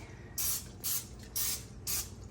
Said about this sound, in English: I'm going to go ahead and spray my pan with some butter spray.